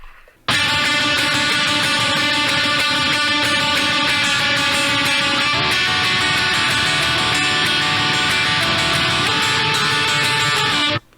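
A programmed guitar lead riff plays over a dense, heavily distorted rhythm guitar, loud and continuous for about ten seconds with a slight change in the lead midway before stopping abruptly.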